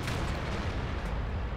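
Tank cannon firing in the World of Tanks video game, a loud broadband boom that fills the brief moment with dense rumbling noise and no voice.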